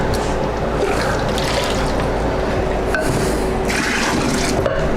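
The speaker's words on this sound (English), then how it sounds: "I'm gonna just put a little bit more hot water in there." Hot water poured into brewing mash while making a pumpkin ale, a steady trickling, filling flow that runs continuously at close range without any talking.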